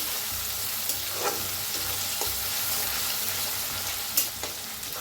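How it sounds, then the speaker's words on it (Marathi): Plenty of curry leaves crackle and sizzle in a pan for Maharashtrian pithla, an even close frying hiss with occasional soft knocks and scrapes of stirring. "चांगलं भाजून घ्यायचं"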